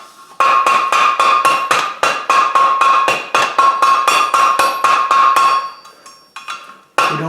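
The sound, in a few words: hammering chain link on anvil horn, forge welding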